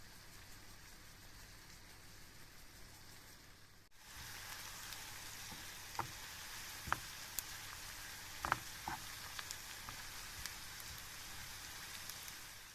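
Onion sizzling in a pan, a soft, even patter of frying that steps up partway through, with a few small pops and crackles and no talking.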